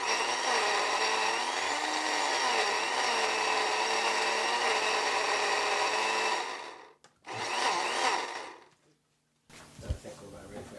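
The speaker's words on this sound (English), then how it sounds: "The goal of this is just to get everything grinded up to a very consistent state." A blender whirs steadily for several seconds while grinding ingredients for Nigerian beef stew, then cuts off, runs again in a short burst and stops, close and loud, followed by a few faint knocks.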